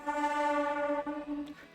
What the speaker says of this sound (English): Obviously, when the train has to go every time when I record.